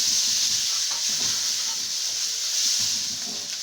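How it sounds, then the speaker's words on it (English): Rice fries in groundnut oil until it chars, a loud, steady, close-up sizzle with a bright hiss that runs throughout, broken by faint scraping stirs. "we want this rice to char a little bit"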